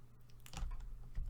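Computer keyboard typing during Black Ops 3 mod-tools work, heard as a quick run of soft, close keystroke clicks over a low steady hum, with no talking.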